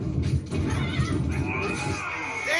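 A horse whinnies in a Game of Thrones fighting-pit scene with swords in the sand, a rising neigh standing out late in the moment over a dense bed of crowd and scene noise.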